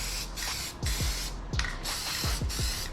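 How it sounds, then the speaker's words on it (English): Plasti-Dip rubber coating sprayed from an aerosol can onto car wheels, heard as steady close hissing bursts broken by short pauses as the nozzle is released and pressed again. "We can always come back and spray again."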